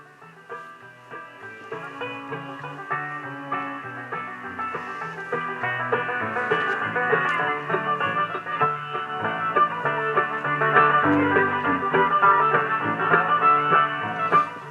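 A Philco 38-7 vintage radio plays music fed from an AM transmitter, with a dense band of overlapping tones limited to a narrow, slightly boxy range, building gradually in loudness over about fifteen seconds, with no talking.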